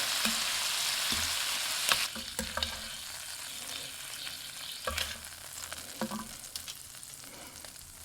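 Shrimp sizzle and fry steadily in a pan, with a few clinks and scrapes as pieces are lifted out and set aside; close, continuous frying with no talking.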